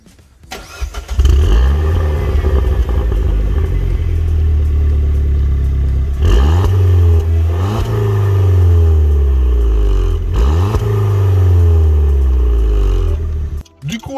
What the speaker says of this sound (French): on va vous faire écouter le bruit au niveau du pochapement